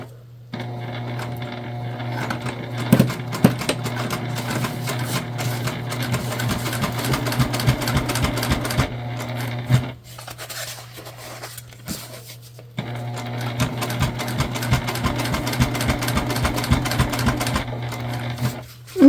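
Juki sewing machine top stitching along the seam allowance of a structured bag's main panel, two runs of steady rapid needle chatter over a motor hum, separated by a brief pause, close and clear with no talk.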